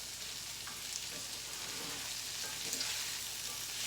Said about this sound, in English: I'm gonna let them saute a little longer